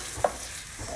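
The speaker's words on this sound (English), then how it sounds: "We're gonna add the onion. Got the sizzle there, which is great." Onion frying in a hot pan gives a soft steady sizzle, with a brief faint clink near the start.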